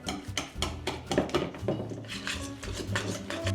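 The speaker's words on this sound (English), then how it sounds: "you can start whisking vigorously" A whisk knocks and scrapes rhythmically against a bowl while beating cold, chunky pastry cream, with quick irregular clinks close by and no talking.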